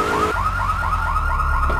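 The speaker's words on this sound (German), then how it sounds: "Alarmanlage, also bitte." A stolen car's alarm in GTA 3 wails in a loud, rapid repeating sweep, a steady electronic whoop cycling several times close up with no talking.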